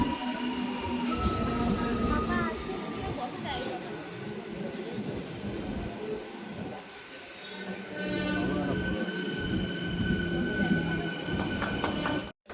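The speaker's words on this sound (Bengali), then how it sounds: "তো দেখতেই পাচ্ছ এখন ট্রেন ঢুকে গেছে।" A commuter train pulls into a station with a loud, sustained rumble, metallic wheel squeals and brake hiss, while people talk nearby on the platform.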